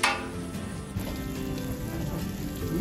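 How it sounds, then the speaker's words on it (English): Pork fat sizzling and rendering into lard on a Blackstone griddle, a dense, steady crackling hiss heard close and alone. "the pork fat is rendering out, adding a layer of lard to the grill here"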